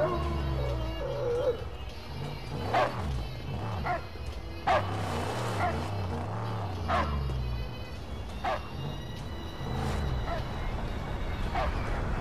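Dog barking in the Mad Max video game, a string of short yips and bow-wows spread through the clip over a dense engine-like rumble and game noise.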